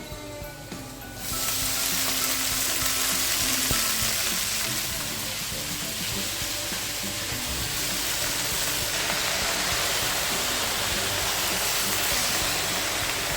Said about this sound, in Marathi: लसूण आलं आणि मिरची परतून झालं की मग भाजी टाकायची